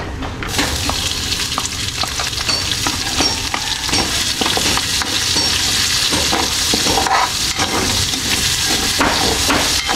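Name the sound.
garlic and onion frying in oil until golden brown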